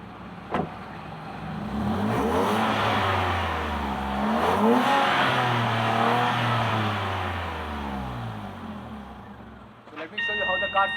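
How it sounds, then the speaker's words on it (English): A Maruti Celerio with a BMC air filter revs up from idle, the engine note climbing and falling in a couple of swells before settling, with a chime near the end. "a quick outlook of how the car sounds when I actually rev up the engine"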